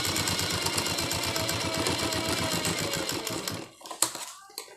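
Sewing machine stitching fabric pieces for a garment, a fast steady mechanical clatter running continuously at close range, stopping near the end followed by a few handling clicks.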